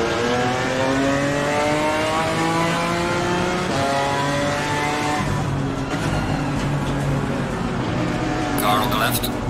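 A BMW M4 GT4 race car at Brands Hatch in Assetto Corsa Competizione accelerates hard off the race start. Loud engine revs climb through gear changes, with a voice speaking over it.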